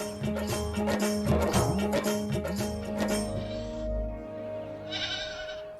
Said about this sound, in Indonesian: Anak kambing ini sepertinya kehilangan induknya.